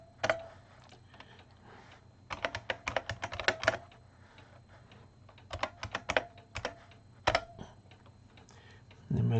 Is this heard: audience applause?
no